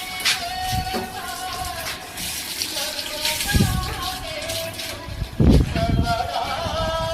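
Water runs and splashes in a bathroom during a plumbing leak test on unfinished tiling, with irregular gushes and spatters close by and brief voices in the background.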